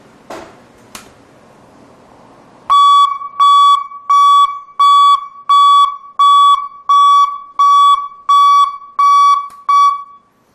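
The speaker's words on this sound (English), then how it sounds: "So as you can hear, it does send out a very loud, clear signal, and it has a really nice, consistent audible or sound interval to it." A Buyers Products self-grounding backup alarm beeps loudly and evenly, about ten sharp tonal pulses at a steady interval after a couple of faint clicks, close and alone.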